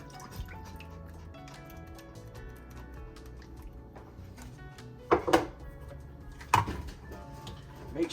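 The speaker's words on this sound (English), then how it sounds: "Then we'll add the cream of chicken soup." Canned cream of chicken soup added to a pot of broth for chicken and dumplings, soft wet squishing and dripping with a couple of sharper plops and clunks near the end.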